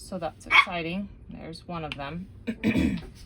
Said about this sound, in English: if you hear noises in the background, I still have the puppies and my two